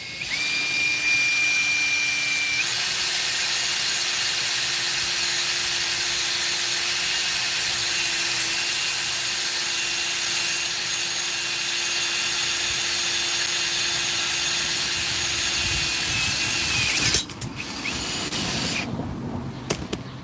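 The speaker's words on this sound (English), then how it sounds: "I'm going to finish drilling this other hole and then put the hardware in." A power drill runs steadily for a long stretch while boring a hole to mount a trailer hitch, with a loud continuous whine that shifts pitch briefly and ends in clattering handling noises.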